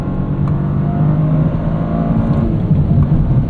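Toyota GR Corolla Core engine on a canyon road, revving hard toward its limiter around 6,500 RPM, a loud, sustained buzzing drone with slight pitch wavering, heard from inside the car.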